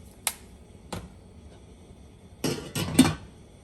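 A lid is set onto a cooking pot of curry with a couple of light metallic clinks, then a louder clatter as it settles, close by in a quiet kitchen.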